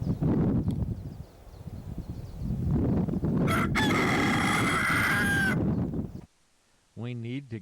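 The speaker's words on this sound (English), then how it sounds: "we hear the crowing of a rooster" A rooster on a Hawaii camping trip crows loudly nearby at first light with clucking around it, its call rising over steady background noise before a short silence and a final strained crow.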